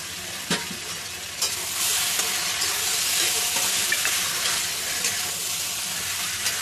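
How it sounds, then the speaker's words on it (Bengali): Taro stolons (kochur loti) fry in a pan with a steady, close sizzle and hiss, broken by occasional scraping clicks as they are stirred; no one speaks. "এটাকে এইভাবে একটু ভাজা ভাজা করে নেব"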